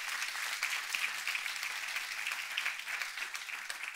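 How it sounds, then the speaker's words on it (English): Quiet, distant audience applause in a church gathering, a steady wash of many hands clapping that carries evenly through the whole stretch. "Can we give God a big hand clap?"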